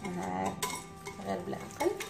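A utensil stirring sugar in a bowl, producing repeated scraping and light clinking against the dish in an irregular rhythm, close and moderately loud.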